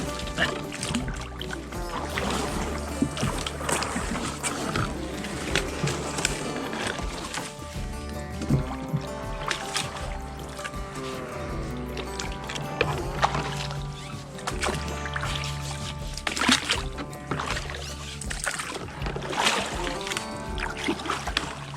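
Kayak paddle strokes through swamp water, rhythmic dips, drips and splashes close by, steady and moderately loud over about twenty seconds with light background ambience.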